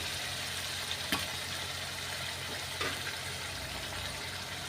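Taro root stirred through masala in a pan gives a low, steady sizzle with a couple of faint scraping strokes of the spoon. The sound is moderately close and there are no voices.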